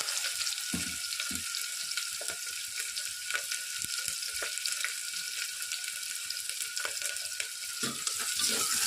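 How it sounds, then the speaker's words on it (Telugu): Two medium onions dropped into well-heated oil, frying with a steady soft sizzle and scattered stirring clicks, fairly quiet and close, with no voices. "ఆయిల్ బాగా హీట్ ఎక్కాక ఇందులో నేను కట్ చేసి పెట్టుకున్నటువంటి 2 మీడియం సైజ్ ఆనియన్స్ని వేసుకుంటున్నాను."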